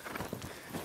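A loping horse's hooves strike the ground in a soft, quick rhythm, faint and brief with no talk over it.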